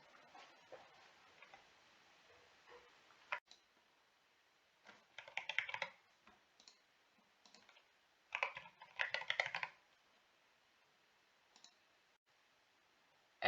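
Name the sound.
typing and clicking on a computer keyboard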